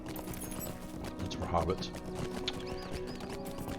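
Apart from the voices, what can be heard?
riding a horse in the video game LOTRO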